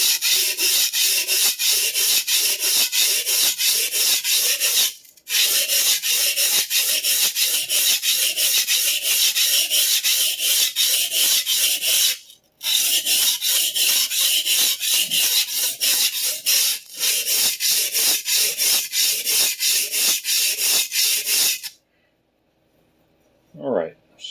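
A vintage Clyde Cutlery chef knife is worked across a sharpening stone to raise the bevel, a loud rhythmic rasping stroke repeated rapidly with brief pauses, ending in near silence.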